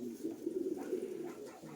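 A sick pigeon, a racing bird, gives a soft, low, rolling coo close by, faint and continuous for under two seconds.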